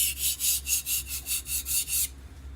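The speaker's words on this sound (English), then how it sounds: "this is a rough stone, so you should get a burr after a couple of passes." A knife blade is drawn back and forth across a rough sharpening stone, about eight even rasping strokes in quick rhythm, close and loud, then stopping.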